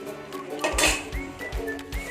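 A metal lid clanks down onto a pan of frying egg curry with a few sharp clinks, followed by faint metallic ringing and soft cooking noise.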